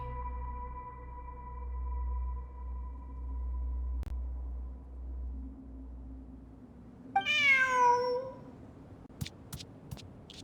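A cat in a video game lets out one clear, wavering meow after a long hum of ambient game music, followed by a few sharp clicks.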